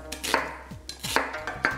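Knife slicing daikon radish and potatoes on a cutting board: several quick crisp chops and clicks in an uneven rhythm, close and clear, no talk.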